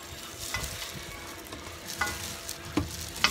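Pork ribs with lemongrass and chili fry in oil in a pan, giving a continuous crackling sizzle. Scattered scrapes and clinks of stirring break through it, and no one speaks.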